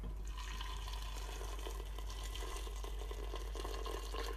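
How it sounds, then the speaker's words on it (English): Water poured from a tap or jug into a pressure cooker holding cardamom and bay leaves, a steady close rushing splash that runs unbroken throughout with no talking. "then we're going to add our water on top."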